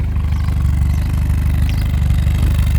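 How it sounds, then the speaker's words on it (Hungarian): A 1993 Reliant Robin's small engine running steadily through its thin, straw-like exhaust, a close, loud, even idle with a buzzy, pulsing drone and no talking. "Fantasztikus kipufogó, mint egy szívószál, körülbelül a hangja is olyan."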